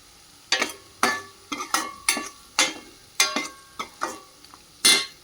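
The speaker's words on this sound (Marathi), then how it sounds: "याला मस्तपैकी आपण आता मिक्स करून घेऊ." Salt and turmeric being mixed into cooking pitla, a series of sharp, close spoon scrapes and taps against the pan about once a second over a faint simmering sizzle, no talking.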